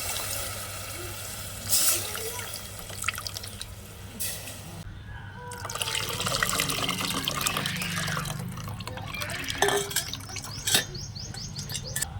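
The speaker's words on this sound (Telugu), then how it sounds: "నేను నీళ్ళు పోసుకుంటున్నానండి" Water runs and splashes steadily into a vessel, with a faint bird chirp and light clatter in the background.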